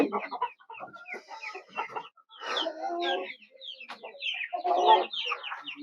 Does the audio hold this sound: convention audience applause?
no